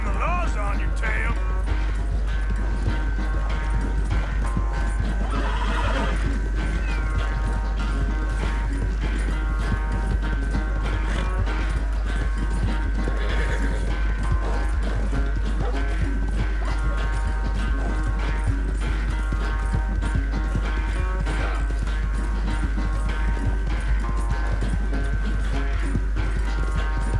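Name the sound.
galloping, neighing horse in video game Red Dead Redemption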